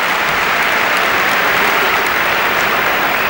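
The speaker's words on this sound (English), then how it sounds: "Applause and congratulation, even from opponents here, for Ed De Hoy" A football stadium crowd applauds a goalkeeper's save, a dense, steady wash of clapping and crowd noise that holds at a constant level throughout.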